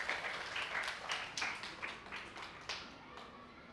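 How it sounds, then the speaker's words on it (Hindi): Students clapping in a classroom make a faint, brief patter of scattered claps in a few short bursts. "तालियां बजाओ।"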